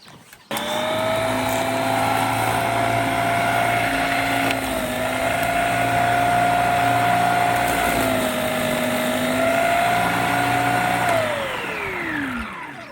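A snowblower engine runs steadily and close while clearing a deep snowdrift, a loud buzzing drone with a slight dip in pitch under load, before the revs drop away at the end.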